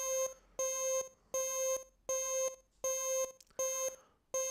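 An alarm-like audition preset on an Emu Command Station MP7 synthesizer plays six loud, evenly spaced electronic beeping tones, each holding a bright harmonic chord for about half a second with short gaps between.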